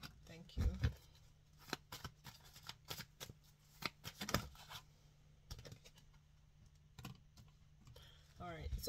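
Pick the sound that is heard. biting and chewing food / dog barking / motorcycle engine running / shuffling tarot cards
shuffling tarot cards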